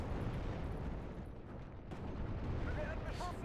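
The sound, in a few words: artillery fire in Steel Division: Normandy 44 video game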